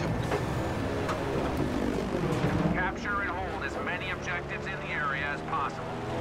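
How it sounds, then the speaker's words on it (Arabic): A fighter plane sweeps past during Battlefield 5 gameplay, a loud roaring whoosh rising over steady battlefield rumble and gunfire, with people talking over the action. "شوف فايتر راح."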